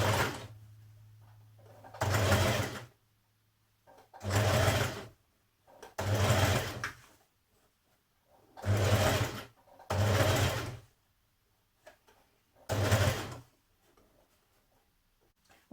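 Sewing machine stitching a dress seam, six short bursts of rapid motor whirring, each one to two seconds long, separated by quiet pauses with a faint hum between.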